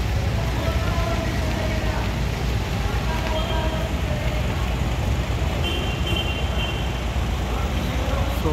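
Dense Hyderabad road traffic beside a four-lane flyover construction site, with motorbikes streaming past in a steady, loud wash of engine noise and no clear gaps.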